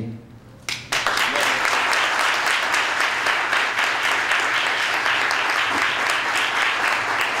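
An audience at a hip hop awards ceremony for mayor's excellence awards breaks into loud, dense applause after a short quiet opening, the clapping holding steady for several seconds with faint voices underneath.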